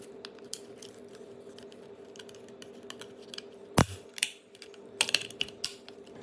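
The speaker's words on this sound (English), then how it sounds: "screwdriver, insert it here. We can take out that label, slowly pry it open." A screwdriver prying open a hard plastic PSA graded card slab holding a Pokémon card gives close, faint scraping and ticking, then one sharp loud crack followed by a few smaller snaps and clicks.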